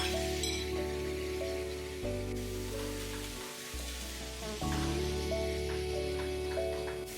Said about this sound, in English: Add 2 to 3 chopped green chillies, grated beetroot, and cook for 5 minutes.